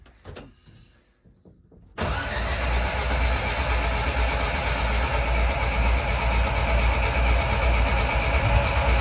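A drag race car engine on its first start attempt cranks and catches abruptly, then runs loudly and steadily with a rough, broadband roar close by.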